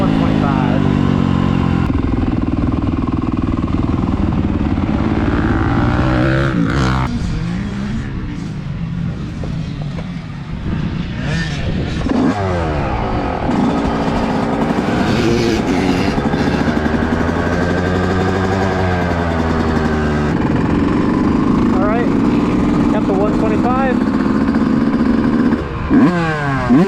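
A Yamaha YZ125 two-stroke dirt bike is ridden hard, its loud close engine rising and falling through repeated revs and gear changes over about half a minute, with speech occasionally under the engine noise.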